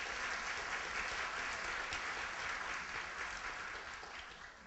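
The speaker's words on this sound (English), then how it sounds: "Now clap." A crowd claps steadily through a speech, a dense, even wash of applause heard from a distance that fades slightly at the end.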